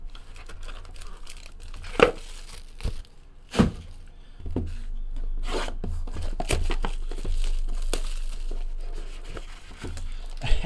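Packs of 2017 Panini Encased football cards being torn open, with crinkling wrapper sounds and several sharp rips near the mic over a steady low background hum.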